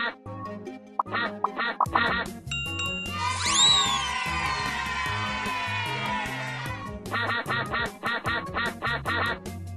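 Cartoonish ducks quack in a video game level, a rapid series of short, bright quacks set against bouncy game music and chimes, with one longer swooping effect in the middle.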